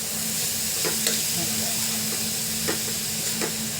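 Jaggery melting in a pan on a low gas flame, a steady sizzling hiss with a few soft scraping stirs as it is moved around, no talking.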